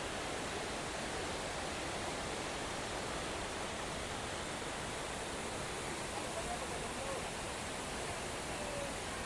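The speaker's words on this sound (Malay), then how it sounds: "Sebenarnya kat sini dah ada dah air terjun ni" Kanching waterfall in Malaysia on a hiking trail, a dense, constant roar of falling water filling the scene close by, steady throughout without pauses.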